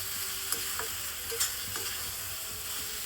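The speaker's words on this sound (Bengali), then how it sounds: "দিয়ে সমস্ত কিছু খুন্তির সাহায্যে ভালো করে নেড়ে চেড়ে মিশিয়ে নিচ্ছি।" Pointed gourd and potatoes are stirred with a spatula in a pan, giving a steady sizzle of frying with light scraping strokes now and then, close and alone.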